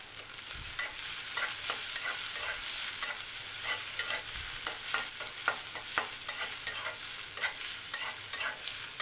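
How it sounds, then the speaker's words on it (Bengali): Onions fry in a pan as the base for a small baila fish curry, steady close sizzling punctuated by frequent scraping stirs of a spatula in a brisk, irregular rhythm, with no voices. "পেঁয়াজটা একটু লাল লাল করে ভেজে নেব"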